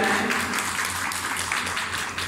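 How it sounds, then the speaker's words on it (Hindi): Audience applause at a Haryana self-help group event where canteens and outlets are being launched, sustained broadband clapping throughout, steady and fairly loud with no voices over it. "सभी तालियां बजाते रहे"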